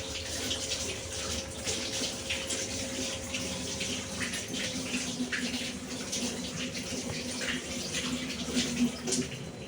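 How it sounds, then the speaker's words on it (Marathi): Hands washed under a running kitchen tap, a continuous hiss and splash of water flowing steadily throughout, with a faint voice in the background. "हँड वॉश करते"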